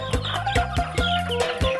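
Burmese gamecock hens and young roosters cluck in short repeated bursts, several birds close by, with a steady chatter of clucks filling the whole moment.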